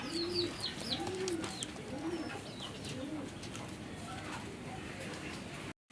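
Raj Golla and local pigeons cooing at a pigeon sale, a steady series of soft rolling coos close by, with higher chirps and background murmur, ending in a brief cut.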